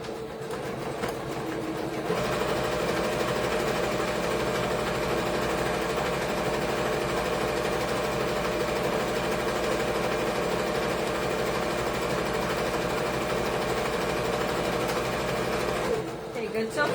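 A sewing machine stitches along fabric in one continuous run of about fourteen seconds, a steady mechanical drone at close range that starts after a brief pause and stops near the end.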